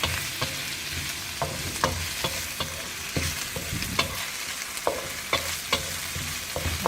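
Spicy black squid sautéing in a pan, a continuous frying sizzle broken by regular spatula scrapes and knocks as it is stirred repeatedly.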